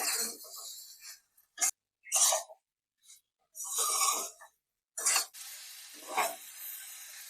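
Fried okra mixed with spices is stirred in a pan with fish roe, giving intermittent scraping and sizzling bursts separated by short silences, close and moderately loud.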